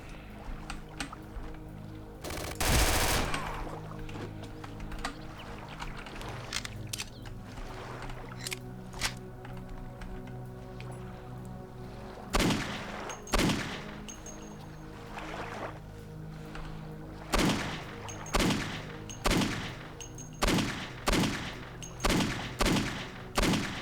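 Glock pistol gunfire in the video game Redacted: Hired Gun on a tropical island, an early loud shot followed later by a rhythmic series of sharp, evenly spaced shots over quiet ambient game sound.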